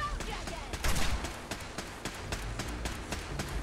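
Gunfire in the video game Fallout 4, with quick bursts of sharp shots crackling at an uneven rhythm over a dense background of game noise, fairly faint overall.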